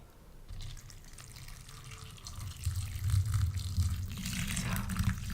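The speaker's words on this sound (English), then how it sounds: "So, I'm getting hot water everywhere." Hot water pours over instant noodles in a cup, a soft, close splashing gurgle that builds slightly louder as the pour continues.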